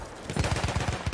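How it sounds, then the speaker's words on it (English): Rapid machine gun fire in a World War I video game, a steady burst of about eight evenly spaced loud shots rattling over a low battlefield rumble. "Machine gun over there!"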